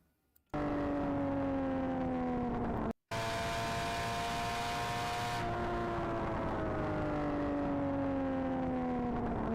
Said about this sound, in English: but the exhaust sounds amazing.